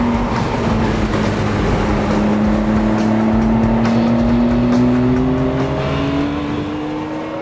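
A 2008 Ferrari 430 Scuderia, 504 horsepower and revving to 8,500 RPM, roars loudly on the Daytona race track, its high-pitched engine tone climbing steadily through a long continuous pull with no talking.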